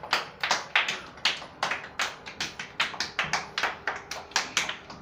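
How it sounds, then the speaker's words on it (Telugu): A group of preschool children at an anganwadi centre claps hands in a steady run of sharp, close claps, about three or four per second, loud and clear with no talking over them. "అందరూ క్లాప్ కొట్టండి"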